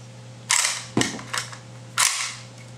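Crisp metallic clicks and clacks ring out as an AK rifle is cleared, the action worked in four sharp separate snaps at uneven intervals, close and fairly quiet with no talking.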